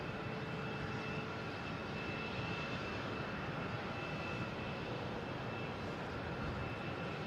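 A PAL Airlines airliner on runway 27 at Boston Logan International Airport produces a steady, broad jet engine roar, distant but constant throughout, with no talk.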